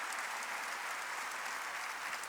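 A church congregation applauding during a worship service, dense continuous clapping from many hands, loud and even for the whole moment.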